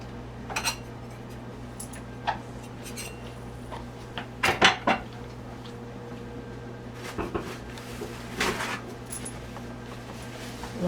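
Knife and utensils cutting a chocolate pound cake, scattered close clinks and knocks of metal on plate, with a hum running underneath and brief clusters of sharper taps.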